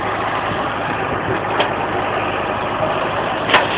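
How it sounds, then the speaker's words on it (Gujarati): A tractor engine idles steadily nearby with a low, rumbling drone and a couple of faint clanks, no one speaking. "આપણે રાજભરનું ટ્રેક્ટર છે આ."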